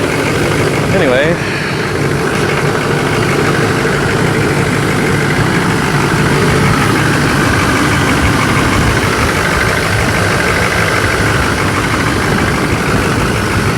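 A 2003 Chevrolet 6.6-litre turbo diesel idles steadily in deep cold after a hard start, a loud, continuous low rumble with a faint knocking texture that holds close and unbroken throughout.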